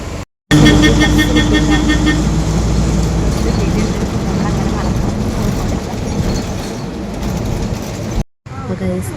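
An auto rickshaw on a road in Kerala, heard from inside as a constant, loud engine drone and road rumble with broadband rattle, briefly cutting out near the start and the end.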